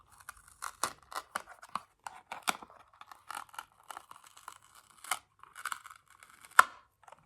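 Backing is peeled off an adhesive anti-snoring nasal strip with a flexible plastic piece, a close, quiet run of short crinkling tears and rips with small gaps between them, ending in one sharper snap.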